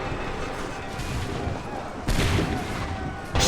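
Musket volleys ring out in a colonial battle scene from Assassin's Creed 3, a rolling fusillade that keeps going under a steady wash of noise and jumps to a louder, sharper burst near the end.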